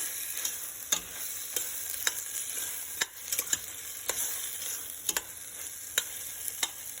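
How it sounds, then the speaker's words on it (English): Chopped tomatoes cook with onions in a pan for mushroom biryani, a soft, even sizzle punctuated by sharp clicks of a spoon stirring at irregular intervals. "So here I added the chopped tomatoes. So we have to cook along with the onion."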